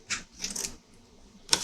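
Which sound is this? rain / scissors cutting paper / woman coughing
scissors cutting paper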